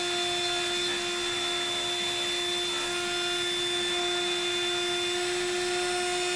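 A CNC router spindle runs steadily at about 10,000 RPM while cutting a wooden wine caddy, a constant high-pitched whine with sharp tonal lines, loud and alone with no talk.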